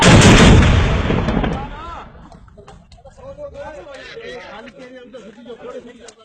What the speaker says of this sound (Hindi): okay motor fire